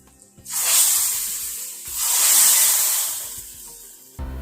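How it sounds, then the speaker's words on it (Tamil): Two loud bursts of hissing sizzle as mustard seeds, dried red chillies and asafoetida hit hot oil while tempering cumin rasam, each swelling and fading, with a brief clatter at the end. "ஜீரக ரசத்தை தாளிக்கிறோம்."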